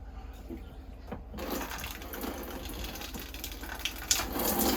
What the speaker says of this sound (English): flow some water in there, so you have a nice barrier that seals the odor from the waste tank